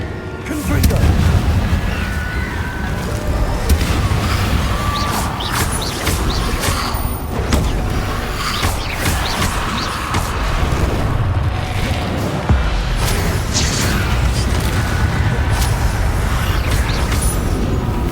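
Confringo blasting spells going off in the video game Hogwarts Legacy, a dense run of loud booming explosions and crackling impacts over a constant roar of battle, with voice shouts mixed in.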